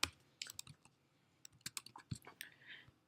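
Quiet computer keyboard typing while entering an Excel function: irregular light key clicks in short bursts, close and soft, with no talking.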